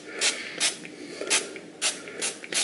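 Low-calorie cooking oil spray hisses in short bursts onto a K&N air filter held over a baking tray, six quick sprays spaced about half a second apart, close and fairly loud, with no voices.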